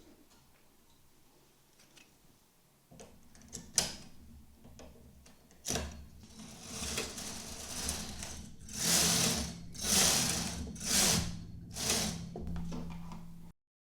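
A domestic knitting machine carriage passes back and forth across all needles knitting rows of tuck stitches, a rattling mechanical clatter of needles and carriage that builds in repeated louder sweeps, close and alone without any voice.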